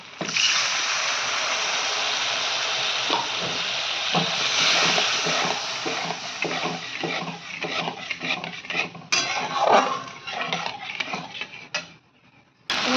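Spice paste frying in a pan for chhana kofta curry, a hissing sizzle mixed with repeated metal spatula scrapes and clinks against the pan, busy and close, fading to quiet near the end.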